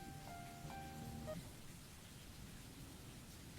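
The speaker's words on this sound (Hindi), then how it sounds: "तेज बारिश हो रही है।" Heavy rain falling in a village during the rainy season, a steady dense hiss of drops held at an even level, with faint tonal sounds briefly at the start.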